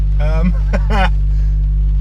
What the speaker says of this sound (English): As a start-up, that's quite loud.